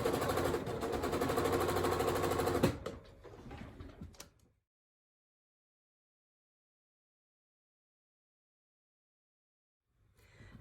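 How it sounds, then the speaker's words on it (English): A sewing machine runs steadily at close range while stitching around the full edge of a holiday appliqué pillow, then slows to a stop with a few mechanical clicks, falls silent, and resumes briefly at the very end. "now I'm going to stitch the whole way around the entire pillow"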